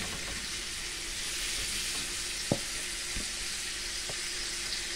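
Marinated hedgehog fish frying in butter in a pan, a constant soft hiss and crackle with a few faint clicks, fairly quiet and without talk.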